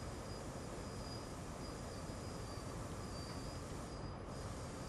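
An empty passenger train runs steadily in Train Sim World, producing a continuous rolling rumble with a faint, sustained high whine from the wheels throughout.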